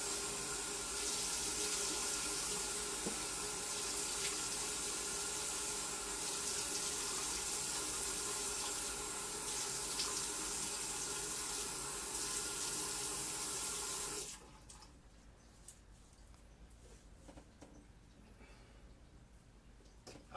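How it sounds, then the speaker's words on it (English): Warm water runs steadily from a bathroom tap into a sink for about fourteen seconds and then cuts off, leaving faint room noise and light splashing for a face wash. "First, I wet my face with some warm water."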